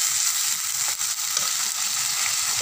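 Onion paste hitting a sizzling curry in a pan, making a loud, dense, continuous frying hiss that stays close and even throughout, with no voices.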